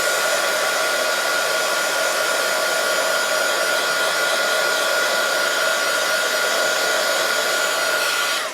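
A hair dryer runs steadily at full blast for several seconds, drying ink on a handmade holiday card, a loud constant whoosh with a faint whine that holds unchanged until it cuts off at the end.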